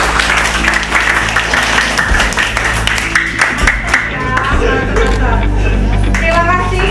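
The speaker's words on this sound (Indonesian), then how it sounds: "Oke, kita berikan aplaus." Classroom audience claps steadily throughout, a dense patter of many hands at a fairly loud level, with a low hum underneath.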